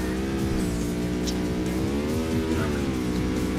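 Burnout 2: Point of Impact race with a Custom Coupe, its engine droning steadily at high revs, pitch rising and falling slightly as it holds speed, and faint tire noise underneath.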